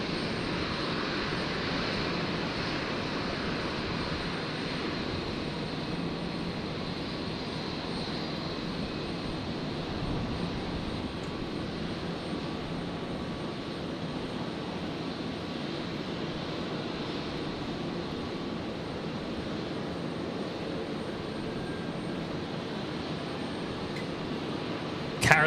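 At Brisbane Airport, an Airbus A321neo jet airliner arriving from Sydney makes a faint, distant engine hum, a thin steady whine over soft broadband noise that barely changes, with a sharp click at the very end.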